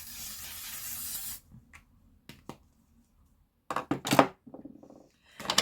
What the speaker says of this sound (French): Je vais mettre un petit peu de spray fixateur